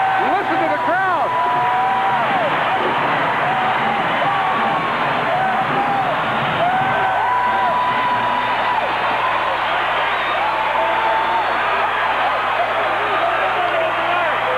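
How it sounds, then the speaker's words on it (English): Basketball arena crowd at a UNLV at Utah State game after a foul, a loud sustained roar of yelling, whoops and cheering that fills the whole stretch, with a commentator's voice running over it. "Listen to the crowd."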